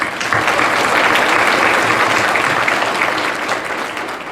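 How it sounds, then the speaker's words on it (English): Steady, loud applause from an audience, a dense wash of clapping that holds evenly for several seconds without talk. "So let's give them a round of applause."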